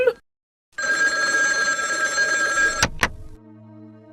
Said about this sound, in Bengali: এই সকালে আবার কার ফোন?